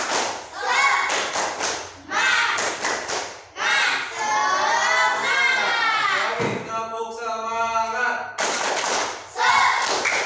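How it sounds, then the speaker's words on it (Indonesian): Fifth-grade pupils in a classroom at SDN Rancateureup do the rhythmic "tepuk semangat" clapping routine, sharp claps and thumps in quick patterned bursts alternating with their chanted and sung voices. "kita sekarang tepuk semangat"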